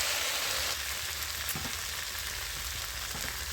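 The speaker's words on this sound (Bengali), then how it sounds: "এবারে জলটা ঢেলে দিচ্ছি এতে" Water hitting a hot pan of frying cauliflower and potato curry gives a steady, close sizzling hiss throughout, with a slight shift in the bubbling texture partway through and no talking.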